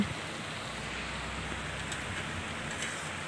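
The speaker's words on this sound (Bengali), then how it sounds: "প্রচুর পরিমাণে বৃষ্টি শুরু হয়ে গেছে একদম অঝরে বৃষ্টি পড়ছে" Heavy rain falling in a steady, dense hiss that stays even and unbroken throughout, with no voices.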